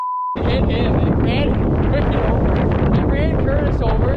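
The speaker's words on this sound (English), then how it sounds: "It's windy out here, man." Strong wind buffets the microphone out on a frozen lake at a winter ice-fishing camp, a loud continuous roar with gusting rumble throughout, a brief tone before it, and voices talking faintly under the noise.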